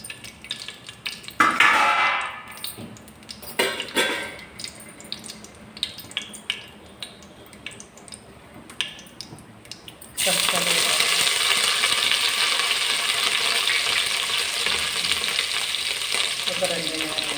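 Cashews dropped into a pan of spices, with clinks and scraping of a spoon against metal, then a loud, steady sizzle of frying that continues to the end.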